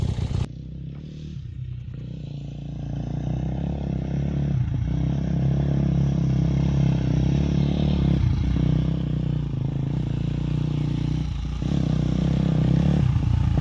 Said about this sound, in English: we're warming up the bikes